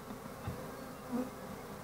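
A honeybee swarm is being housed in a top bar hive, giving a steady, low, continuous buzz that stays fairly faint throughout.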